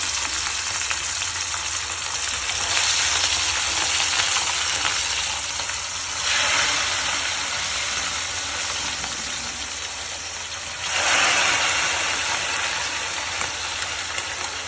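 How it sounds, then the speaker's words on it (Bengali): Pieces of rohu fish frying in a generous amount of hot oil: a steady, loud broadband sizzle throughout, swelling in two bursts as more fish goes into the pan. "আমি এবার মাছগুলো একটা একটা করে ছাড়লাম"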